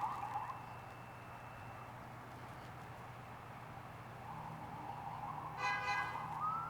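A police siren wails faintly in the distance over steady traffic rumble, its rising and falling tone growing a little louder toward the end.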